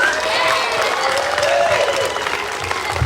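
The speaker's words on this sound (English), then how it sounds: "Can we have one last round of applause for our fifth graders as they leave for their photo" Audience at a fifth grade elementary school celebration giving a steady round of applause with some cheering as the students leave.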